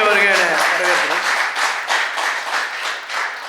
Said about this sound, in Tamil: சீனி கார்த்திகேயன் அவர்களையும் பலத்த கைத்தட்டலோடு வருக வருக என வரவேற்கிறோம்